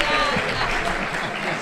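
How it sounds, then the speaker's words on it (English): An audience at a pitch night applauds the panel of judges, a dense, continuous round of clapping close by, with voices mixed faintly underneath. "Can they have a round of applause?"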